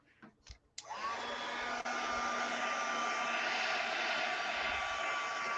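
A hair dryer switches on after a few soft clicks and blows steadily to dry paint on a sunflower painting, a loud constant whine and rushing air held close throughout.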